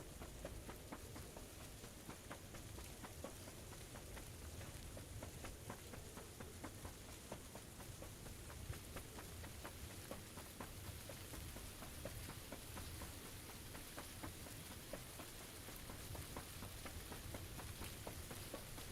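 Continuous rain patters densely with a windy, hissing wash, faint and uniform throughout with no voices, from the video game PUBG.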